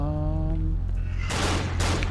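Enemy gunfire in the horror game Cry of Fear, bursting in after a low droning hum; a loud, dense volley of shots crackles through the second half of the moment.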